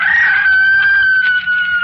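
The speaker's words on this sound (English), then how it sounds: "And below us somewhere a rooster crowed" A rooster crows in an old-time 1947 radio drama sound effect, one sustained, fairly loud call under no speech, set against a quiet night-to-dawn scene.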